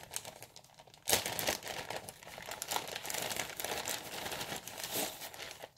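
A Ziploc plastic bag crinkles and rustles in close, irregular bursts as it is handled, beginning with a sharp crackle and continuing under a few quiet spoken words.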